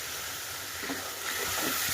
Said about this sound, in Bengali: ভালো করে এরকম নাড়াচাড়া দিয়ে একটুখানি কষিয়ে নেব, ভাজা করে নেবো মশলাটা।